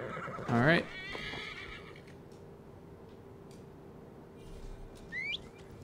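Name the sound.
horse neighing in the video game Skyrim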